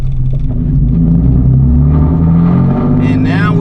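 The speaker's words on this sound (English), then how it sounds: "I may hear the little whirring sound, which it just sounds like tires on the road" Steady low road rumble and tire whir from inside a Genesis car cruising on fresh pavement, fitted with a polyurethane rear differential mount kit, continuous and moderately loud with a faint hiss rising near the end.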